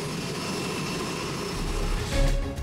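A skydiving airplane's engine drones steadily during boarding, a broad continuous roar with a louder low surge near the end.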